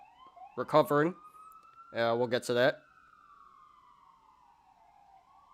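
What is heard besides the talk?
police sirens passing outside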